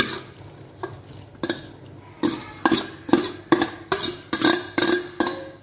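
A spoon stirs ada pieces and sago in coconut milk in a pot for ada pradhaman, a few soft scrapes first and then a steady run of loud, rhythmic knocks and scrapes against the pot.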